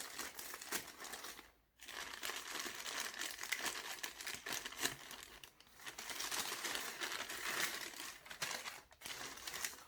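Pretty gift wrapping paper is crumpled and pulled open around a fragile home-décor item, giving close, continuous crinkling and rustling with a few brief pauses between handfuls.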